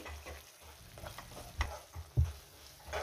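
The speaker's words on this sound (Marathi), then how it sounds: "काजूची पेस्ट घातल्यावर सुद्धा 1 मिनिटभर आपल्याला व्यवस्थित परतून घ्यायचंय।" Cashew paste for mushroom masala being stirred and sautéed in a pan over a low-to-medium gas flame, giving soft scraping stirs and a quiet sizzle with occasional louder knocks of the spoon, with no talking.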